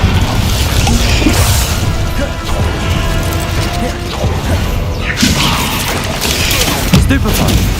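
Spell blasts from Hogwarts Legacy boom, crash and whoosh in a rapid, loud, continuous barrage, with a voice shouting spell names over the top.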